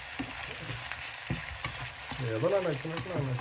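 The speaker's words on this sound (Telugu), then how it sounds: "ఆనియన్స్ ఆ చికెన్ రెండు కలిపి ఫ్రై అవడానికి వేసేస్తున్నాం" Onions and chicken with mint fry in a pan with a steady sizzle and occasional stirring scrapes, and a voice murmurs briefly near the end.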